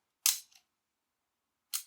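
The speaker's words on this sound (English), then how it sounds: "So the shutter on the EED is a little louder" Two crisp shutter clicks from an Olympus Pen EED half-frame film camera, each a sharp close snap with a faint mechanical tail, spaced about a second and a half apart in silence.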